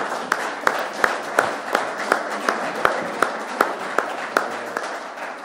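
Steady, moderate applause from a roundtable audience at an EU heritage session, accepting a joint statement, with sharp individual claps standing out in an even rhythm throughout.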